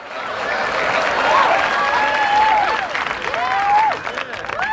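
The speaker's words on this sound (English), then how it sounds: "I can get my laughs and my hand claps going." Crowd applause and cheering fill the clip, a dense steady roar of clapping with whistles and voices mixed in, loud and continuous throughout.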